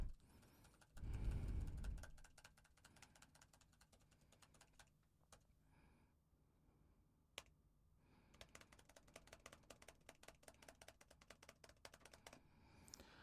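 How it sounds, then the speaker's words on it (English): Rapid clicking of keys being typed on a computer keyboard, quiet and close, with a brief low rumble near the start and denser bursts toward the end. "let me try with this time the keyboard typing"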